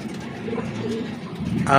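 A racing pigeon coos softly nearby in low, throaty murmurs, followed by a brief rustle or flutter at the end.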